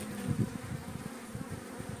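A dense, steady hum of many bees buzzing close by at a hive being tended, with slight swells in loudness and no talking.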